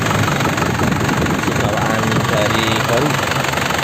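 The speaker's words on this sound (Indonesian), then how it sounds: "mesin udah nyala, udah saya panaskan" A warmed-up diesel engine of a 2003 Isuzu Panther idles with a steady, dense rumble and vibration throughout while someone talks over it close by.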